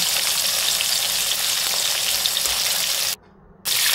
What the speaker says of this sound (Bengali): এবার এই আলুগুলোকে আমি একটু বেশি ভাজা ভাজা করবো